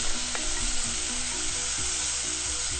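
Mixed vegetables for noodles sizzle loudly in a hot pan while a utensil stirs and scrapes through them, giving a steady frying hiss with no talking.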